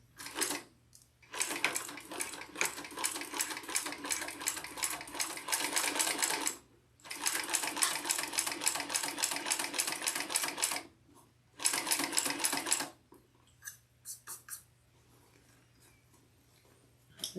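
A sewing machine stitches down the vinyl edge of a Monroe bag by Linds Handmade, running at 120% speed in fast, steady bursts of a few seconds each, broken by short pauses and a brief final run.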